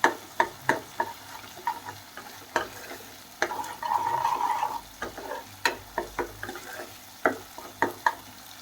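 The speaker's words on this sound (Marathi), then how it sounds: "थोडंसं तेल सुटेपर्यंत मिक्स करून घ्यायचं" Onion masala fries in oil while a spoon stirs and scrapes the pan in a quick, irregular rhythm over a continuous sizzle, with one longer hissing burst in the middle.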